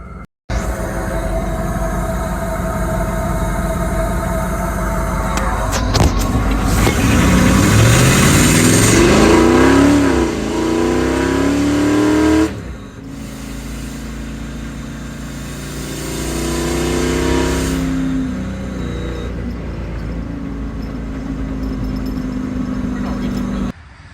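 Ford 5.0L V8 surging and bucking under acceleration, its loud engine note rising and dipping unevenly as revs climb, with a brief drop near the middle and a steady drone resuming, recorded close with no talk.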